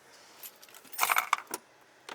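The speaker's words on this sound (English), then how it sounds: "2 keys, 2 remotes right there." Two keys and two remotes for a Toyota Tacoma TRD pickup jangle together in a few light metallic clinks and rattles, close and fairly soft.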